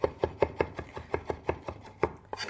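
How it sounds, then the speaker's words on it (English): A knife finely chops fresh sage on a board in quick, even strokes, about ten crisp close taps in a steady rhythm with nobody talking. "So just finely chop"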